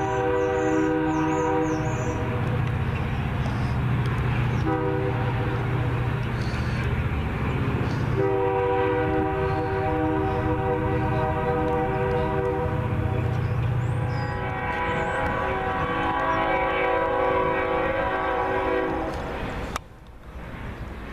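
A CSX freight train sounds its horn in long, loud chords that run nearly the whole clip, with the rumble of the passing train underneath and a brief drop near the end.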